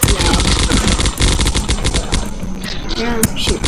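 Rapid automatic assault rifle fire in a zombie video game, dense bursts of sharp cracks crowding the whole stretch, loud and close, with a brief lull and a few single shots near the end.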